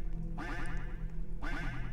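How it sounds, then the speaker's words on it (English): A duck quacking in a Roblox obby game, two bursts of rapid raspy quacks close by over a steady low hum of background game sound. "I hear a duck, but I don't see nothing"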